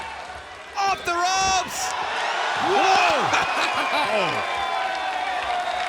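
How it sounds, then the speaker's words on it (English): A wrestling crowd at a Ring of Honor main event roars and cheers, with bursts of applause and whoops swelling under an excited commentator calling the action over the arena noise. "The crowd coming alive!"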